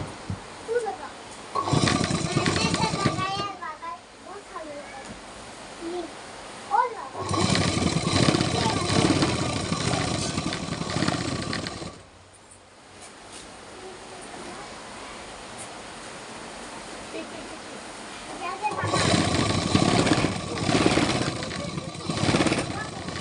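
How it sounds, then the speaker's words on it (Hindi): A sewing machine stitches over lace attached to a palazzo, running in three long, steady, loud bursts of rapid mechanical whirring separated by quieter pauses. "ये हमने जो लेस लगाया था हम उस पे सिलाई लगा रहे हैं।"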